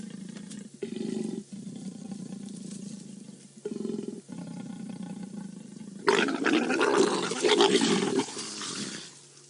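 Leopards mating give low, rumbling growls in several long bouts, breaking into a louder, harsher roar near the end, heard up close with no talking.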